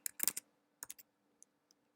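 Typing on a computer keyboard while entering Java code: a quick burst of several keystrokes, a second short cluster, then a couple of isolated taps, close and quiet with no voices.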